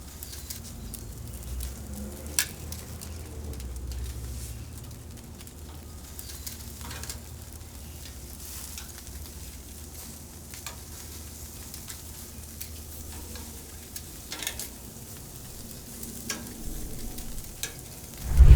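NY strip steaks sizzling on a Pit Boss grill, a soft continuous crackle and hiss with occasional pops, fairly quiet, with birds cooing outdoors in the background.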